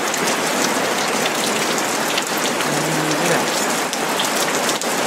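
Steady rain falls outdoors in an open natural area with wildlife, a dense, even hiss of drops hitting surfaces throughout, close and continuous with no voices.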